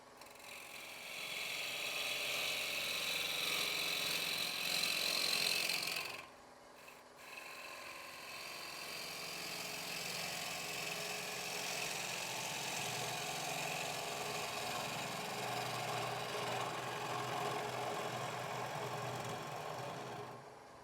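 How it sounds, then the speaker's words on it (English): A big bowl gouge cuts a wooden bowl spinning on a wood lathe, a continuous loud rasping scrape that runs steadily for about twenty seconds, briefly dipping once as the tool lifts, with no talking. "this is just my big bowl gouge here"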